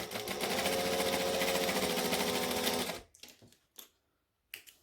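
A sewing machine stitches a second decorative topstitch line on a pair of shorts, a fast, loud rhythmic chatter for about three seconds that stops abruptly, followed by a few soft fabric-handling clicks.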